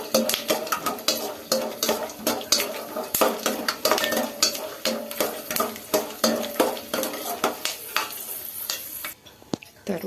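Lentils and groundnuts roasting in a pan as a spoon stirs them, with repeated scraping and clinking against the metal over a light sizzle in a steady rhythm, close and clear.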